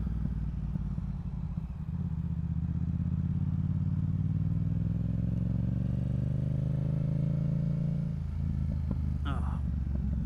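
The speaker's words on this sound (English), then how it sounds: "Listen to that crackle in the pops." A motorcycle engine runs close by on a ride to work, with a rising rumble that drops off, then a few sharp exhaust crackles and pops near the end, while someone talks over it.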